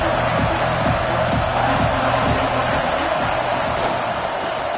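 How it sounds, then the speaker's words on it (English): A packed football stadium crowd cheers in a loud, continuous roar that stays steady throughout, with no pauses. "This crowd knows when to bring it."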